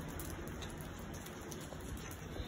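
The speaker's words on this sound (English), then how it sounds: "It is raining bad out here." Constant heavy rain in Tenby, Wales, a thick uninterrupted hiss of drops hitting surfaces close by, with no voices.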